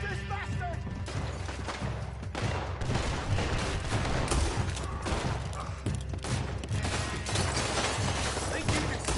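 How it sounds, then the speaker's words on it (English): Gunfire crackles through a frantic video game shootout, with dense bursts of shots and crashing impacts filling the scene almost without pause, loud and close, while voices shout over the battle. "Shoot this bastard!"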